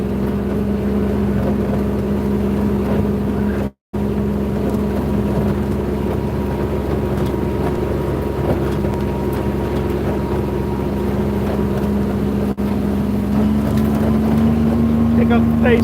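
A small Komodo vehicle putters through the woods in medium gear, a steady droning engine hum that continues almost unbroken, with someone talking over it.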